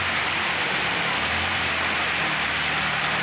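Heavy monsoon rain pouring steadily during a thunderstorm in Pakistan, a dense unbroken roar with a low rumble beneath.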